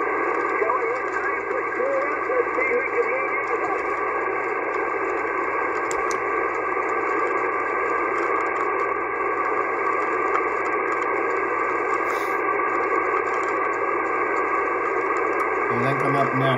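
Shortwave 12-metre amateur radio reception from a New Zealand station, a steady band-limited receiver hiss with a faint voice signal buried in it, constant and moderately loud throughout.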